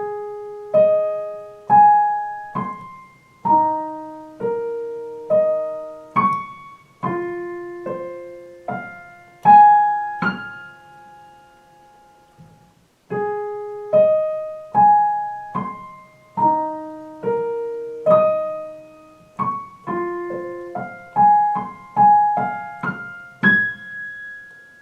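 A piano plays the intro to a song from The Greatest Showman slowly, with clear single notes and broken chords in a steady unhurried rhythm, a short pause midway, then the phrase repeats, close and alone without talk.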